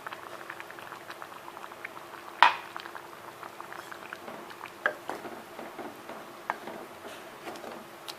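Mango curry made with milk bubbles softly at a low, steady simmer, with one sharp metallic clank of a utensil against the pot and a few fainter taps.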